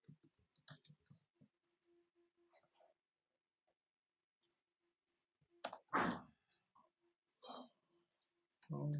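Bursts of typing on a computer keyboard, close and quiet, with scattered key clicks separated by silent pauses and one louder thump midway.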